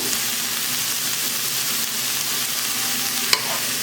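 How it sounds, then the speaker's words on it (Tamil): Onions sautéing in a pan with a little salt, stirred steadily, giving a continuous close frying sizzle and hiss with one brief clink of the spoon near the end. "வெங்காயம் நல்லா ப்ரௌன் கலரில் வரணும் வதங்கி அது வரைக்கும் நல்லா வதக்கிக்கோங்க"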